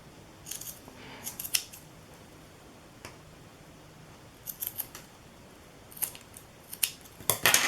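Scissors snip paper into petal shapes for a handmade flower stamp, giving several crisp cuts in short bursts separated by pauses, close and fairly quiet with no talking.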